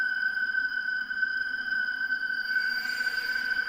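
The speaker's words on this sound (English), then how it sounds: "When Springtrap gets into camera 5, he'll produce a scare sound that sounds like this." Springtrap's camera-5 scare sound in Five Nights at Freddy's: a steady high electronic tone over a faint hiss, continuous and unchanging, with a slight brightening noise wash toward the end.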